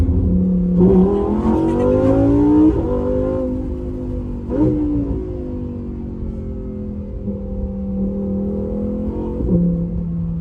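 A Lamborghini sports car accelerates hard, its engine revving loud and close with rising and falling pitch through gear changes, a continuous powerful roar from inside the car.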